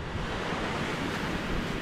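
Big ocean waves surge loudly in a dense, continuous wash of surf with wind buffeting the microphone, heard close and alone.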